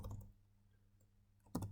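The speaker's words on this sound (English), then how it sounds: "I'll go in and I'll type in a question" Computer keyboard typing as a quiz question is entered, a few soft key taps early on, a quiet stretch, then a louder burst of clicks near the end, close by with no talking.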